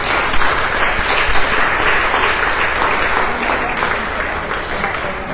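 Sustained audience applause fills a lecture hall at the close of a poetry and psychology panel discussion, dense and loud with even clapping throughout and a faint voice or two mixed in.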